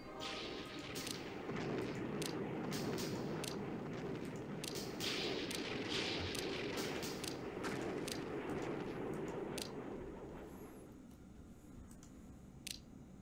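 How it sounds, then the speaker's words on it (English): Airstrikes in the wargame The Operational Art of War IV: a sustained, loud rumbling blast with crackling debris and sharp snaps throughout, fading and thinning toward the end. "Oh boy, airstrikes."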